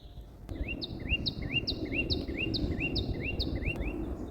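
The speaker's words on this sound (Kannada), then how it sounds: "ಚಿಕ್ಕ ಹಕ್ಕಿ ಅಲ್ಲಿ ವಯರ್ ಮೇಲೆ ಕೂತು ಎಷ್ಟು ಚೆನ್ನಾಗಿ ಕೂಗ್ತಾ ಇದೆ ಗೊತ್ತಾ" A small bird perched on a wire sings a series of about eight short, evenly spaced chirps over a steady outdoor background rumble.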